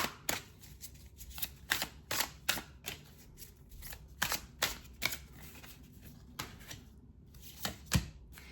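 Nightfall Tarot cards being shuffled by hand, a run of sharp, close riffling snaps and taps in an irregular rhythm over a quiet room.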